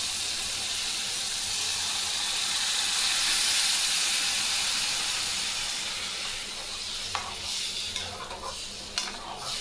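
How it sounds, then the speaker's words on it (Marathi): Hot water poured into a pan of sizzling Khandeshi-style tomato curry gives a loud, steady steaming hiss that slowly fades. Near the end come a few brief scraping clicks of stirring. Nobody speaks. "आपण यामध्ये आता गरम पाणी ॲड करूया"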